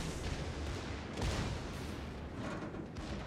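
Secondary guns of the Yorck warship fire in the naval video game World of Warships, a muffled low boom amid continuous dense battle rumble, fairly quiet and with no talk over it.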